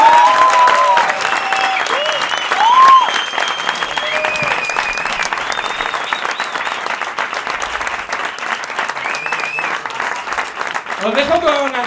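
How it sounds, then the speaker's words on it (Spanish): A live audience bursts into sustained, dense applause after a comedy monologue, loud and close, mixed with cheers and whistles and some crowd voices throughout. "¡Un aplauso!"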